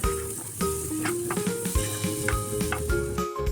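A spoon stirs karam sundal, a spiced chickpea snack with lemon juice, in a pan. The sizzle is steady and close, with scraping clatters at irregular moments throughout and no talking.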